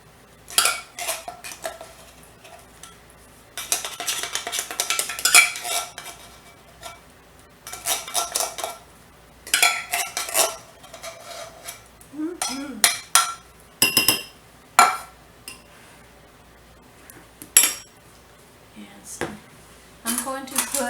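Canned soup is spooned into a pan for a creamy Brussels sprout casserole, with repeated clinks and scrapes of a utensil against cookware coming in irregular bursts, close and fairly loud, with a voice talking now and then.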